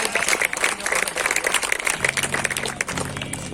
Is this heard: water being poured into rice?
no